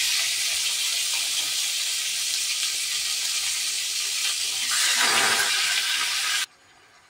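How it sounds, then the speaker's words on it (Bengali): Chicken pieces dropped into a hot kadai sizzle loudly and steadily, with a brief surge of hissing spatter near the end before the sound cuts off abruptly. "কড়াইয়ের মধ্যে আমি চিকেনগুলিকে সব দিয়ে দিচ্ছি আগে।"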